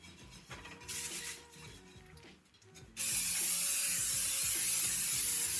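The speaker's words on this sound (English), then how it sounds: "I'm gonna take my Pam and I'm gonna spray both of these pans" Pam non-stick canola oil cooking spray sprayed onto frying pans, a loud continuous hissing spray that begins abruptly partway through and holds steadily, preceded by clicking and clattering handling sounds and a short earlier hiss.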